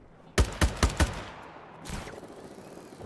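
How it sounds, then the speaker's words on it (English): In the Just Cause video game, a quick burst of four loud, evenly spaced gunshots fires at snipers, followed by a fainter rumbling blast. "More snipers. Take them out, Rico."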